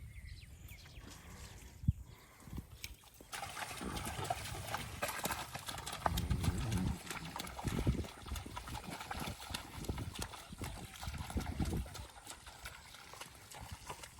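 Several horses moving together in rain-soaked surroundings, hooves clip-clopping in an irregular, fairly close rhythm, with scattered thuds and shuffling.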